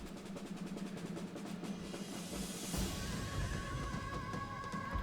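A horse whinnies in a strategy-game battle over a busy, dense background of battle noise, the neigh rising and trailing off partway through.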